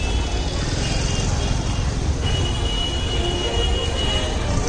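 A train near Virar railway station rolls past with continuous rumbling wheels and faint metallic squeals, loud and steady throughout, while street noise mixes in beneath it.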